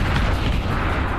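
Rockets from a launcher detonating in Serious Sam VR, a steady roar of heavy low explosions that blur into one loud, sustained rumble, with no talk.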